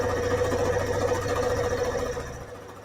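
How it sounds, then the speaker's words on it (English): Sewing machine running steadily for nearly three seconds, stitching fabric close around stiff Peltex interfacing for a soft-cover mini junk journal; a continuous close mechanical whir that eases off slightly near the end. "Sewing basically all the way around the Peltex."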